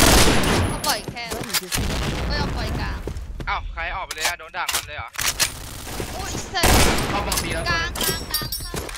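Rapid video game gunfire in tight bursts, loud and close, mixed with excited talking voices that come through in the quieter stretches between volleys.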